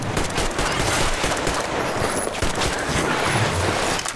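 A gun in the video game Metro Exodus fires on full auto in one loud, dense, unbroken burst of rapid shots that fills the whole stretch.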